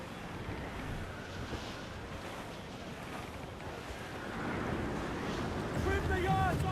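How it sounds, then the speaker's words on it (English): Strong wind and rough seas in the Assassin's Creed IV Black Flag video game: a steady, full roar of gusting wind and crashing surf that swells louder near the end, with voices talking over it. "That wind's no small gale, sir. Dark skies and rough seas there!"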